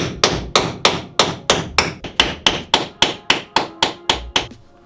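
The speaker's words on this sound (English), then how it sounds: "These are just spot welded on here, so I'm just going to try to chisel it off." Rapid steady hammer blows on a chisel cutting a spot-welded steel van skin panel, about fourteen sharp metallic strikes close up at an even rhythm, with no talking.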